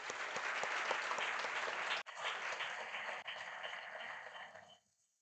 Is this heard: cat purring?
no